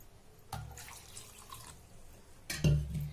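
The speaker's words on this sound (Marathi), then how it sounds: "आता याच्यामध्ये पाणी घालायचं" Water splashes and pours into a blender jar in two bursts, a short one then a heavier one, with faint rattling between them, close by.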